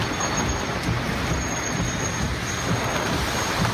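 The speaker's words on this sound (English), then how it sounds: "Look at that rain." Heavy rain drums steadily on a car in windy weather. The dense, loud wash of noise is continuous and close, with no talk.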